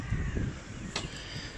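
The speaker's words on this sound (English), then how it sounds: "Oh, crows are out." Crows cawing outdoors, one sharp caw standing out over low rumbling background noise, no talk.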